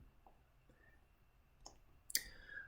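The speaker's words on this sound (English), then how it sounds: "So clicking on the scroll wheel, hold that down and then move the mouse around." Computer mouse scroll wheel being clicked and held during 3D modelling navigation in TinkerCAD, a few faint sharp clicks spaced apart in a quiet room, the last one louder.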